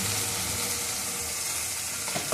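A spice paste for mustard curry sizzles in a hot pan in a steady, close, continuous fry, with a faint scrape of stirring near the end.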